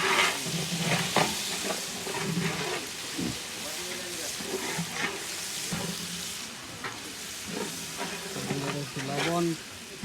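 Chopped onion fries with garam masala, ginger paste and garlic paste for biryani, a loud, continuous sizzle crackling under stirring scrapes, with a voice faintly audible at moments.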